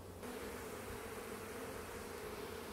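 Honey bees from a traditional hive buzz in a steady, dense swarm drone, continuous and fairly close without pause.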